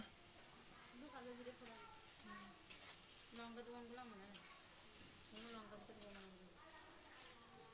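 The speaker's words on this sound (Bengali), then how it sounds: "আবার আমি ভালোভাবে আলুটা ভেজে নেব।" Potatoes frying in a pan for a ridge gourd and poppy seed dish give a steady, close hiss of sizzling oil, with a voice talking over it throughout.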